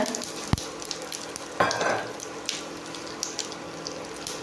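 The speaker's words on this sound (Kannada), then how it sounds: "ಮತ್ತು ಮೆಣಸಿನ್ಕಾಯಿ ಚೆನ್ನಾಗಿ ಫ್ರೈ ಮಾಡ್ಕೊಳ್ಳೋಣ." Mustard, cumin and coriander seeds frying in hot oil, a soft steady sizzle with scattered crackles and a sharper burst of spattering midway, close by with no voices.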